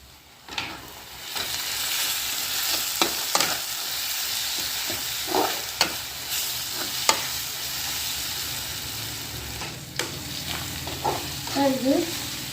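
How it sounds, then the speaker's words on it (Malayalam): Garlic, ginger and green chili sautéing in a pan for a simple chicken curry: a continuous soft sizzle with intermittent scrapes and clinks of a spoon against the pan, close by, with no speech. "വെളുത്തുള്ളി, ഇഞ്ചി, പച്ചമുളക് ഒരുമിച്ചിട്ടു. ഇനി അത് വഴറ്റണം."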